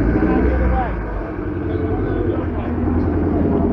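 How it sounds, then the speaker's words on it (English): A 5-litre Ford Mustang passing at a car meet, a deep engine rumble that swells, dips and swells again, with a person talking over it. "Here comes a 5-litre Mustang as well."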